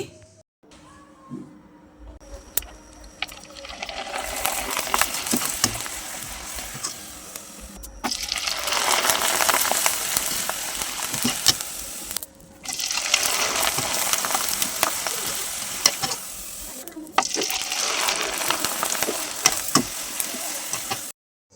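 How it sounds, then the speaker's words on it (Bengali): Syringe pitha rice flour cakes frying in hot oil give loud, close bursts of bubbling sizzle in several long stretches, separated by brief quieter pauses with small clicks. "এখন পিঠাগুলোকে ভেজে নিচ্ছি"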